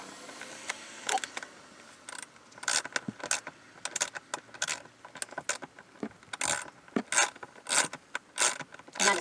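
A hand ratchet loosens a very long bolt during a Ford Bronco upgrade, giving bursts of rapid clicking that start and stop repeatedly at close range, with no talk.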